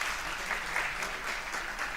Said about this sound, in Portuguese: Uma salva de palmas de novo para o seu bacon.